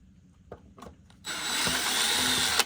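A few faint clicks and taps, then a power drill spins up to back tiny Phillips screws out of an Isinwheel S10 Max electric scooter rear hub motor, whirring steadily and close until the end.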